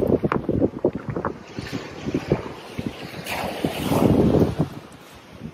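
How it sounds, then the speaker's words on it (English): Waves wash onto the shore at Bray, County Wicklow, a steady rushing surge with breaking swells swelling louder near the end, mixed with gusty wind buffeting the microphone. "But I do like all these waves hitting the shoreline."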